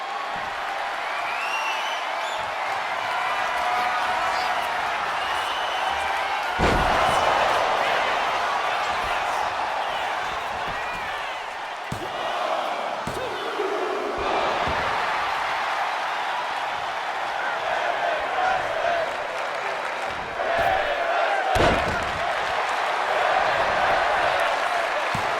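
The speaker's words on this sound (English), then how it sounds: "Listen to this crowd." A wrestling arena crowd roars and cheers during a women's match featuring Thunder Rosa, a sustained loud wash of voices with scattered claps and thuds, under a commentator's voice.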